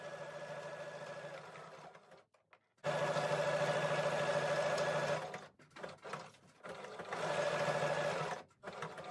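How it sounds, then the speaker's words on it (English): Sewing machine zigzag stitching through hessian to attach a Christmas gift tag: a close, steady mechanical whirr in three runs separated by short pauses, with no speech. "I'm going to use a zigzag stitch to stitch this on"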